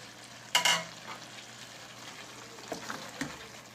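Pieces of taro root tumble into a pan of softened potatoes frying in oil, with a quick clattering drop followed by a low, faint sizzle and a few soft stirring scrapes.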